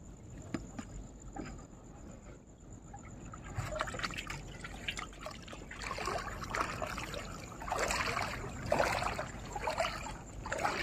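Faint water trickling and dribbling along a shore at low tide, soft irregular splashes and gurgles building slightly louder over about ten seconds, with no voices.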